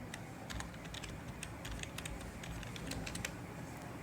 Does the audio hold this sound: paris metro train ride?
no